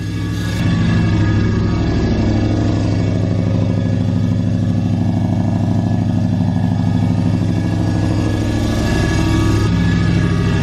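A cammed Ram truck engine runs at a steady high idle just after its first start, a loud continuous rumble with a choppy, lumpy pulse that holds throughout, with no talking.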